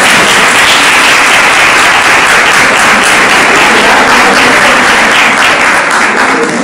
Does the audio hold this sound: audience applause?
yes